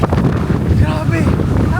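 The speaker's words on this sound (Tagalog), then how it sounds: "Grabe ang lakas ng hangin!" Strong wind buffets the microphone in loud, rumbling gusts, with a voice speaking faintly under the roar.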